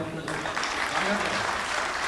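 Live audience at a Hindi comedy poetry show breaking into applause, a steady wash of clapping that fills the whole moment at moderate level with no talk over it.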